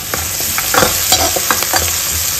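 Tadka for macaroni sizzles loudly in a pan, a steady close frying hiss broken by brief stirring scrapes, with no voices.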